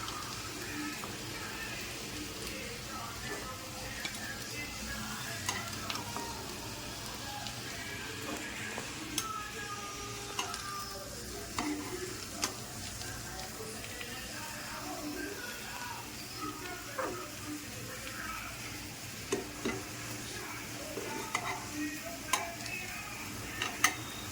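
Egg and potato pieces frying in a pan for a Bengali dim aloo dish, a quiet steady sizzle with scattered stirring clicks and scrapes throughout.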